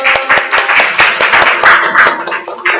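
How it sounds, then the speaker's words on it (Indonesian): A classroom audience claps hands together during an Islamic religious education lesson, loud irregular claps layered close together for a few seconds with no talk. "ya, tepuk tangan dulu."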